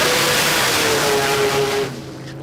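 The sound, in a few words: drag racing car revving at dragway testing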